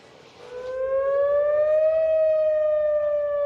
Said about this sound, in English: tornado sirens blaring